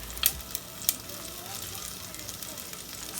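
Chopped onion frying in a pan while it cooks before rice is added, giving a faint, steady sizzle with a couple of small sharp clicks near the start.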